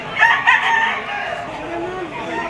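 A bull stag gamecock at a gamefowl market crows once, loud and near at the start, then trails off into quieter background noise.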